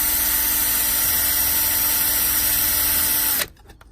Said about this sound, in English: So I'm just basically going to drill in there and hope